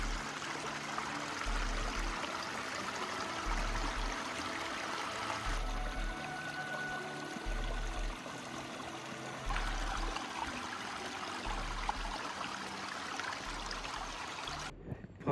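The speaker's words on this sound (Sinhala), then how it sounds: "චුටි වතුර පාරවලුත් තියෙනවා මෙතන." Small meltwater streams trickle steadily in the foothills of the Alps near Filzmoos, Austria, a continuous, even wash of flowing water with no voices.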